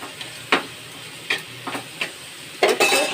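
Pabda fish curry being sautéed with Kashmiri chili powder and sugar in a pan: a steady sizzle of frying with repeated close scraping stirs and spoon taps against the pan at an uneven rhythm.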